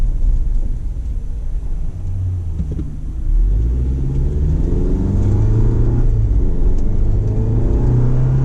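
Engine of a 2018 Jeep Wrangler with the 2.0L turbo four-cylinder hums and rumbles steadily from inside the cabin while driving, a low droning tone rising slightly as it pulls, with no talking.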